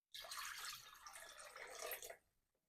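Water is poured onto scored chicken pieces in a short, bright splashing stream lasting about two seconds, close and soft, then cutting off abruptly.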